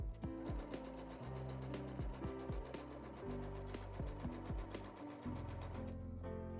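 Sewing machine stitching a kimono, with rapid mechanical needle runs in short bursts and pauses, close and steady, ending in a quicker final run.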